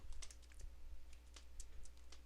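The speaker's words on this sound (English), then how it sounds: "I got my keyboard out." Quiet typing on a computer keyboard in a workshop: a brief run of soft, irregular key clicks over low background hum, with no talking.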